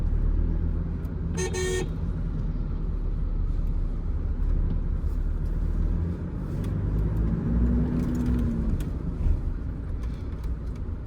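Cabin drone of a Toyota Innova Crysta 2.4 diesel while driving, a steady low engine and road rumble with tyre hiss throughout, and a brief car horn toot from traffic near the start.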